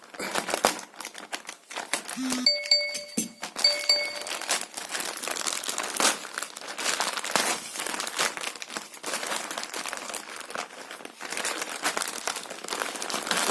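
Parcel from AliExpress being opened, its plastic wrapping crinkling and tearing steadily and up close, with a few faint clinks and no clear speech.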